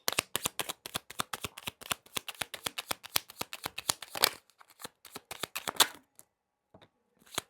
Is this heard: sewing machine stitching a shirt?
no